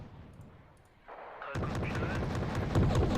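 Sniper gunfire in a video game, a series of sharp shots and cracks that kick in partway through and continue loud and dense, mixed with game noise and a voice talking.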